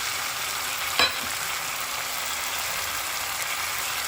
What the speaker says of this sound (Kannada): ನಾನೀಗ ಸಣ್ಣಗೆ ಕಟ್ ಮಾಡಿ ಇಟ್ಕೊಂಡಿರೋ ಪಾಲಕ್ ಸೊಪ್ಪು ಹಾಕ್ತಾಯಿದ್ದೀನಿ